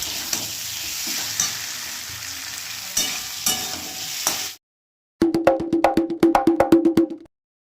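Fish curry masala stir-fried in a pan for a homestyle Bengali fish curry with potato, brinjal and bori: steady close sizzling and scraping, then a short pause and a run of sharp, rhythmic spatula knocks against the pan.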